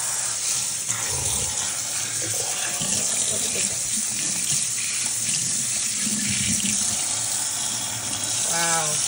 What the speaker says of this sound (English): we're just gonna flip the water on.